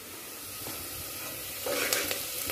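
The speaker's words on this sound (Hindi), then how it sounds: "अब मैं बनाऊंगी मलाई का घी।" Cream sizzles in a pan as it cooks down into homemade ghee, a soft, steady frying hiss that swells briefly toward the end.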